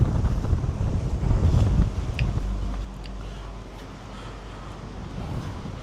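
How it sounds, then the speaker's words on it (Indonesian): Strong wind at sea gusts hard across the microphone with waves washing around a boat sheltering from a west-monsoon storm, loud and blustery at first, then easing to a steadier roar. "ombaknya belum berhenti-henti guys, sama angin kencang ini"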